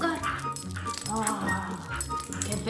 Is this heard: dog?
yes